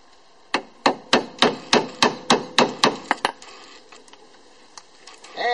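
Repeated hammer blows knocking the rear wheel hub cap off a Honda Civic, about a dozen sharp, evenly spaced metallic strikes up close, then a few scattered knocks and scraping.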